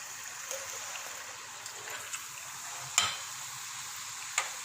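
Chicken samosas deep-frying in oil, a soft, steady bubbling hiss with a couple of faint clicks, fairly quiet and continuous without speech.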